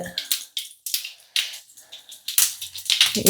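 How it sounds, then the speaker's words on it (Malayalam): Mustard seeds spluttering and popping in hot coconut oil while tempering a traditional Kerala kurukku kalan curry, heard as a close, irregular burst of crackling sizzle with sharp pops in quick clusters. "അര ടീസ്പൂൺ കടുക് ഇട്ട് പൊട്ടട്ടെ"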